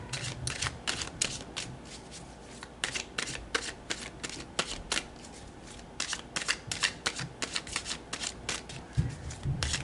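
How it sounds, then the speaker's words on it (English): Tarot cards being shuffled in quick, crisp riffling bursts that repeat throughout, close and fairly soft, with no talking. "let's pull some tarot and go deeper"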